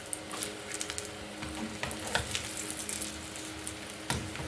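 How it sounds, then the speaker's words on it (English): Food fries and sizzles in a pan with a steady crackling hiss, sprinkled with sharp pops and a few louder spatters, close and with no voices. "You want to lightly fry them."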